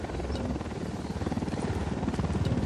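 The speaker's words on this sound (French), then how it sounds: "Hélico en approche." A helicopter approaches in the video game Ghost Recon Wildlands, its rotor chop a loud, steady rapid thumping that stays close and continuous throughout, with no talk over it.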